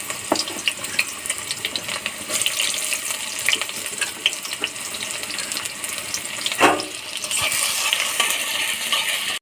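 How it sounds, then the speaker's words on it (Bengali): Sliced onions frying in hot oil in a wok, a steady loud sizzle running throughout with occasional scraping stirs and a brief louder clatter partway through, no talking. "পেঁয়াজ হাফ ভাজা হয়ে গেছে"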